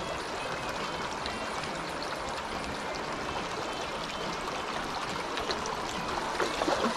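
A high river runs at a creek fishing spot, giving a steady, broad rushing and gurgling flow that stays close and constant, with no talk over it.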